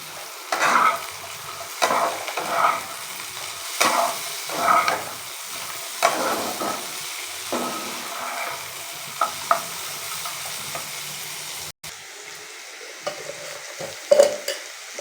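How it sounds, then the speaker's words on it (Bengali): Cashews and raisins fry in a pan, giving a steady sizzle broken by repeated scraping stirs every second or so, close and fairly loud with no talking. "এবার দিয়ে দেবো কাজু কিশমিশগুলোর সঙ্গে ভাজা ভাজা হয়ে যাবে।"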